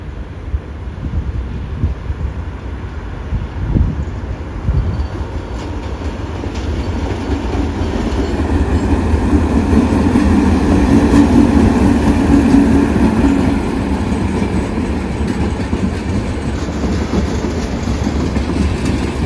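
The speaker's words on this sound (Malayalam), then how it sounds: "കൊങ്കൺ കന്യ എക്സ്പ്രസ് വരുന്നുണ്ട് കേട്ടോ, ഒരു WAP7 ലോക്കോ ആയിട്ട്" The Konkan Kanya Express, hauled by a WAP7 electric locomotive near Karmali station, rolls past in a loud, continuous rumble with rhythmic clickety-clack of wheels and buffeting wind noise that swells toward the middle.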